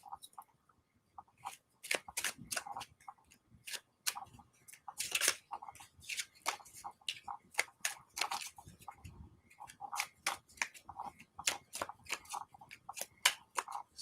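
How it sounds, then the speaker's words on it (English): Tarot cards shuffled by hand, a rapid series of crisp riffling and slapping bursts repeating in irregular clusters, close and clear with no talking. "Shuffle 13 times for Rob."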